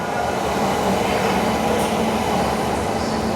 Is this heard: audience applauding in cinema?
no